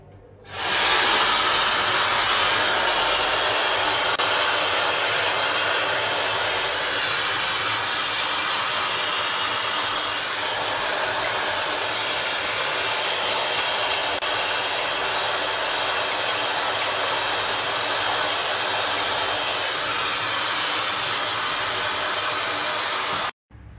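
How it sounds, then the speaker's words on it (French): A hair dryer blows hot air while hair is being dried and styled, a loud, steady, continuous roar running nearly without change from start to finish. "Donc je me sèche les cheveux."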